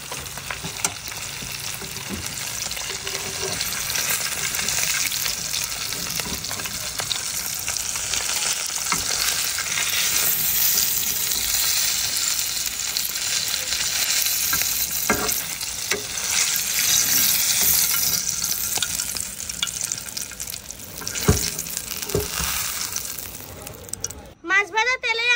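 Fish fries in hot oil with a continuous loud crackling sizzle close by, occasional scrapes of a utensil, and brief speech over it before a clatter near the end.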